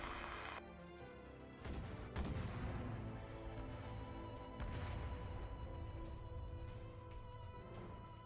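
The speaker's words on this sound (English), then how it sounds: "The cannon fire is drawing closer." Cannon fire in the Arknights video game booms and crashes in several heavy impacts over a continuous dense rumble, loud and close, with sharp blasts spread across the stretch.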